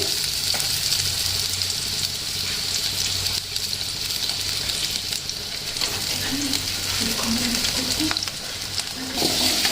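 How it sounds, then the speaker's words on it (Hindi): Steady, loud sizzling of onions frying in hot oil with cumin, with occasional stirring scrapes and faint speech in the background. "और इसमें डालेंगे हम प्याज और इसको हल्की गोल्डन करेंगे।"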